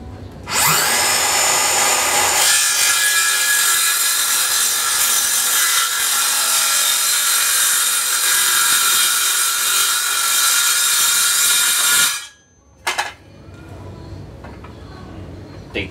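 A circular saw fitted with a Bosch standard 36-tooth wood blade cuts through wood, a loud, harsh, continuous rasping whine lasting about twelve seconds before stopping abruptly, followed by brief clatter and low background noise.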